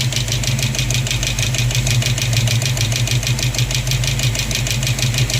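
Car engine running steadily during fuel-system and harmonic-balancer work, with a fast rhythmic ticking from the valve train, suspected to be a rocker arm, riding over a low continuous hum, loud and close, with no talking.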